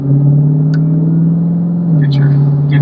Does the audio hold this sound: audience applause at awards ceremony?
no